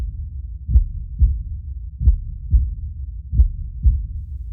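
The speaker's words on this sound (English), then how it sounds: "the heart beat on with a muffled sound" A muffled, low heartbeat thuds in steady paired beats, six soft, dull pulses evenly spaced and close, alone with no other sound.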